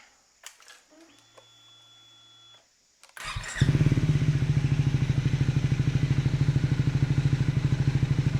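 A Triumph Scrambler 400X motorcycle with a Yoshimura GP-Magnum titanium exhaust cranks and catches after some faint clicks, then settles into a loud, steady, throbbing idle through the exhaust.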